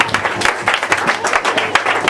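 A church congregation applauds in a continuous, dense patter of clapping hands that fills the room, with scattered voices mixed in.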